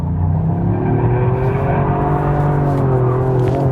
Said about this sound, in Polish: to sapanie tam z tyłu tego wydechu